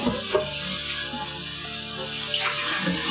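Kitchen tap running steadily as a pan is rinsed in the sink during a breakfast cook-up, a continuous close hiss of water with faint clinks and splashes.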